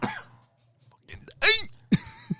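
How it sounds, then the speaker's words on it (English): A single close, harsh cough from a man at a podcast microphone, followed by a short throat-clearing sound and a breathy exhale. "I need a cough."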